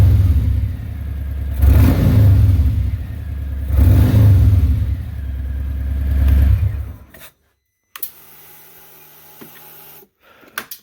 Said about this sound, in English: here's what the throttle response is like.